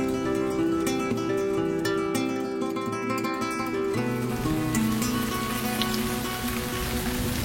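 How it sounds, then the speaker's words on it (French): Steady rain falls through the night outside a monastery guesthouse beside a church, a dense continuous patter holding at an even level with some tonal background sound underneath. "La pluie n'a cessé de tomber toute la nuit."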